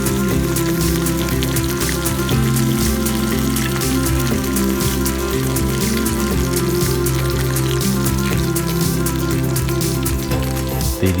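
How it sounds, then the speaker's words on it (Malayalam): Small nachakka fish frying in boiling oil while being turned, giving a dense, steady crackling sizzle that stays loud and even from start to finish. "തിരിച്ചും മറിച്ചും അങ്ങോട്ട് ഫ്രൈ ചെയ്തു."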